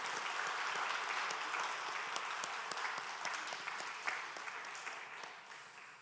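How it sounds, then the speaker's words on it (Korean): A church congregation at a Sunday morning service applauds a newlywed couple, a steady wash of clapping that slowly fades out, with no talk. "우리 신혼부부 우리 축복 한번 박수하겠습니다"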